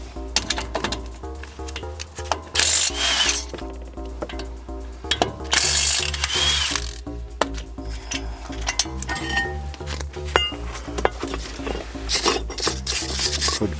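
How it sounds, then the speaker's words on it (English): A hand ratchet on the 15mm brake caliper carrier bolts of a Range Rover Evoque clicks in rapid, uneven bursts of sharp metallic pawl ticks, close and clear with no talking. "now it's time to remove the caliper carrier bolts."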